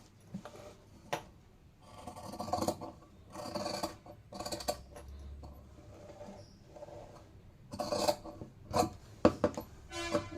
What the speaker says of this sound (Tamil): இப்போது இது வந்து ஃப்ரண்ட் நெக் எப்படி கட் பண்ணுறேன்னு பாருங்கள்.